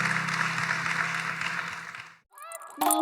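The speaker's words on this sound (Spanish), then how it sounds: "Acuérdense que dense un aplauso a Dios" A church congregation gives God a round of applause during a service. A dense, steady roar of many hands fills the room for about two seconds, then drops to silence, followed by faint ringing tones and a brief noise.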